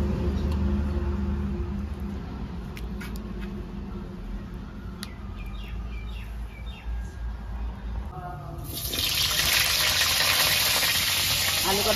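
A spice paste fries in a pan for a meat curry, a steady sizzle with a brighter, louder burst of hissing near the end, while people talk over the cooking.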